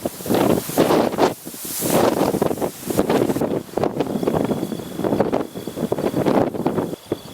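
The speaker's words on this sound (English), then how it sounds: "It's windy too, so we'll see." Steady wind gusts rush and roar across an outdoor microphone in Kansas, rising and falling in broad swells with a faint rustle underneath, during a pronghorn archery hunt.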